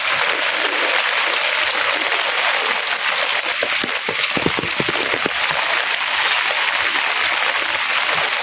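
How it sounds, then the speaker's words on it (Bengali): Heavy rain pouring steadily near a riverbank in a village, a dense continuous hiss with a few louder drips spattering close by midway. "প্রচুর বৃষ্টি।"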